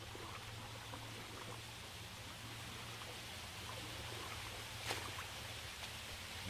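Swimming underwater in the video game DDO through putrid, murky water toward a submerged rusty hatch: a steady, low, muffled watery wash with a constant hum, continuous and moderately quiet, with one brief brighter splash-like burst near the end.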